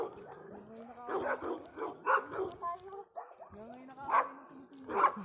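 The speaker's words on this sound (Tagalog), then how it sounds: "Galit na galit sa'yo aso ah." A dog barks and growls angrily at passersby on a street in Hungary, rapid close barks in bursts with a short pause, while people talk over it.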